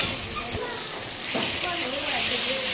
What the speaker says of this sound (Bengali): এখন এই মশলাটা কষানো হচ্ছে।